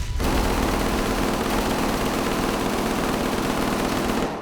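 Sustained, dense gunfire fills a crime documentary reenactment: a loud, continuous rattle of shots lasting about four seconds, with no talking.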